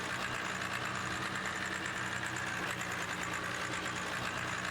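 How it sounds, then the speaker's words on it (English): A steady Cummins diesel engine in a Ram pickup truck in Farming Simulator 17 idles with a constant low rumble and a faint knocking vibration, running continuously without speech. "This Ram really does sound well with the Cummins engine underneath the hood"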